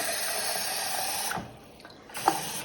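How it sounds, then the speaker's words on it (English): Cold water runs in a steady broadband rush while being poured into a kefir jar, breaking off briefly midway before flowing again with a small clink. "Then you're gonna put the cold water in."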